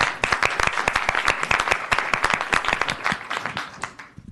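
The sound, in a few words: round of applause for committee members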